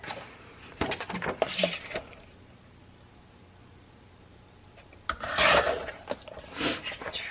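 Paper being trimmed for an envelope insert makes short rasping cuts in two bursts, with a quiet pause between, close up.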